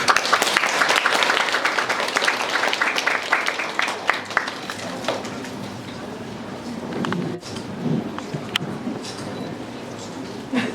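A crowd at a gallery exhibition opening applauds with dense clapping that starts strong, then thins and fades into scattered claps and murmuring voices.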